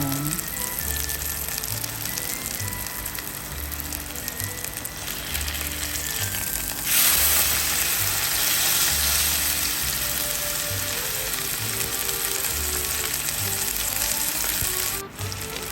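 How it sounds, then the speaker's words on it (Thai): Chicken fries in hot oil with a steady, loud sizzle and crackle that continues throughout, brightening partway through. "น้ำมันเดือดแล้วก็เอาไก่ลงไปย่างเลยจ้ะ"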